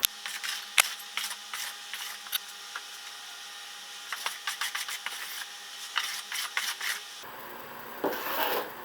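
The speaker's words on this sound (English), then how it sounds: "You're going to want to get a tool that has multi-edges, that way you can take off thicker pieces of wax." Old wax being scraped off a skimboard with a multi-edged tool gives close, dry scraping and rasping strokes in irregular bursts, with a brief louder rougher patch near the end.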